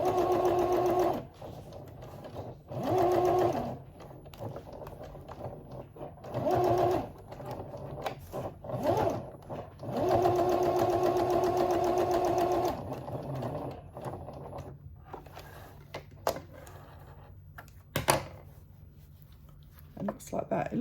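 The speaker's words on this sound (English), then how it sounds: "So now I've encased everything in, so there's the two sides of fabric and the piping, and I'm going to machine this as close" A sewing machine stitches through two layers of fabric with piping for a boat cover, running in repeated bursts of steady whirring with short pauses between them. A quieter stretch follows near the end, broken by one sharp click.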